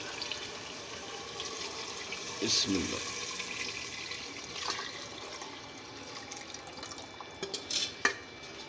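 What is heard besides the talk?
water poured into gram flour and yogurt for kadhi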